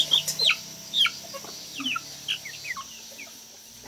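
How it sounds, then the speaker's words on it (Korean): Young European-breed chickens of French and English lines, eleven half-grown birds roaming a farm community's field, cluck and chirp in short repeated bursts, close by and fairly clear, with no talk. "바로 요 닭들이죠."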